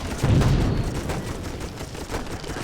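Gas mortars fire toxic gas rounds in the video game Toy Soldiers, a dull low boom opening into a rumbling, crackling burst of distant battle noise that fades out over a couple of seconds.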